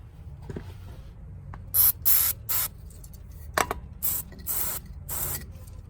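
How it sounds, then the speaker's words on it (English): Lubricant sprayed into the sticking throttle linkage of a Kawasaki Mule 2510 utility vehicle comes as about six short, close hissing bursts, separated by brief pauses, over a quiet background. "we'll spray some lubricant down in there."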